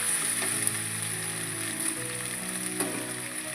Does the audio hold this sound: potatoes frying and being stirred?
yes